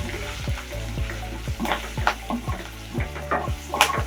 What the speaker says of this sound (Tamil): பச்சை மிளகாய் போட்டதுனால இதில் கொஞ்சம் போட்டுக்கோங்க. கருவேப்பிலை போட்டிருக்கோம்.